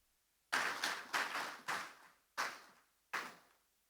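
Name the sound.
audience applause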